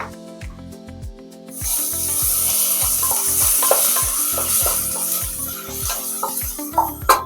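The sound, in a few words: onion frying with ginger garlic paste, stirring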